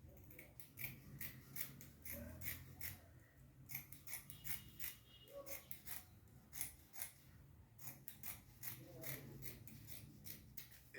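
Scissors snip through dress fabric while a bubu dress is being cut out, giving a close, steady series of sharp crisp cuts across the whole stretch, with faint soft background sound beneath.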